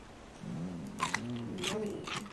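Cartoonish biting and chewing from eating cooked potatoes in the survival video game Raft, a short run of crunchy bites heard close and clear.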